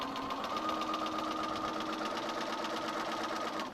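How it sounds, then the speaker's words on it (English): A sewing machine runs steadily, stitching pieces of a small eight-point star quilt block along a marked line, with a continuous close mechanical hum and rapid needle rhythm throughout. "we're just going to start sewing. And we're going to sew right on that line."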